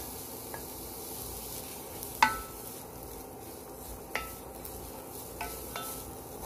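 Carrots being stir-fried in a pan for fried rice, a steady sizzle broken by a few sharp utensil clinks and scrapes against the pan.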